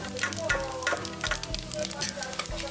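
Cumin and spices roast in a pan, a soft, even sizzle overlaid by repeated light scraping strokes of a small ladle at a steady rhythm.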